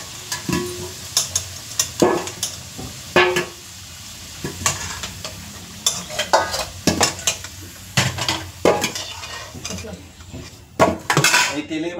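Fried potatoes being scooped out of a pan of hot oil with metal utensils, a series of sharp scraping clinks and knocks against the pan over a faint sizzling background, irregular and close.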